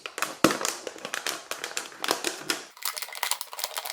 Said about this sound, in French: On va couper le fond de la bouteille.